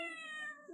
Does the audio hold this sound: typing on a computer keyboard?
no